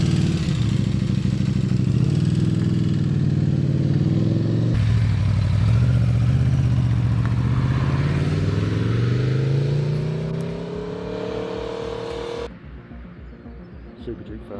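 A motorcycle sweeps past, its engine note swelling loud then sliding down in pitch as it passes and fades away, an abrupt cut near the end.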